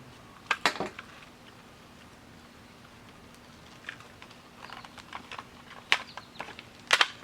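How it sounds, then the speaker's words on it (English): Small nippers snipping dried glue off a Furby's fur fabric, quiet crisp clicks and snips scattered in short bursts against a faint, steady room background. "I also take some of these little nippers and just sort of cut the glue off"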